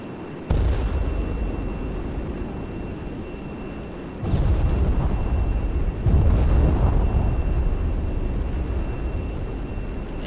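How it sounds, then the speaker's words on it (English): Bombs dropped from an A-10C aircraft in ArmA 3 explode in three heavy, booming blasts spaced a couple of seconds apart, each rolling into a loud, continuous low rumble with no gap between them. "And here we've got bombs."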